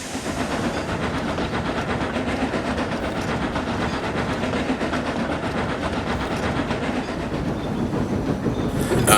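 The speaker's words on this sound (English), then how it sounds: "the diesel left with a rather loud rumble" A diesel locomotive pulls away with a loud, continuous rumble and rhythmic rail clatter, close by and steady throughout with no voices.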